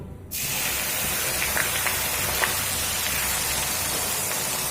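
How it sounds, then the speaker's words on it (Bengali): Onion pieces frying with turmeric in a hot pan, a steady close broadband sizzle that starts abruptly and holds even and loud throughout, with no voices. "হলুদ দিয়ে পেঁয়াজটা খুব সুন্দর করে ভেজে নেব"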